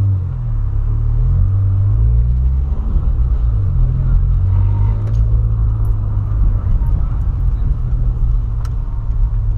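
A Volkswagen Polo on new tires is heard from inside the cabin as a steady, loud low road rumble with a smooth engine hum while driving.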